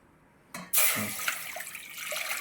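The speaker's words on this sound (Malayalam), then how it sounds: "ഒരു പാത്രത്തിൽ ഒരു ലിറ്റർ വെള്ളം ഒഴിച്ച് നമുക്ക് ചൂടാക്കാം" After a brief clunk, about a litre of water gushes steadily into a cooking pot, a close, continuous splashing pour.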